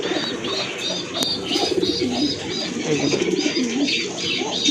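Pigeons, including deep red crested birds and an ash-coloured female from a mixed local and fancy flock, coo steadily close by in soft, rolling, overlapping calls with no talking.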